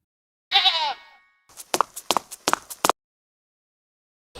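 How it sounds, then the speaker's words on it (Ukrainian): A sheep bleats once in a long, wavering cry, then a quick series of five or six short, sharp bleats follows close by against silence. "Звісно, вівця."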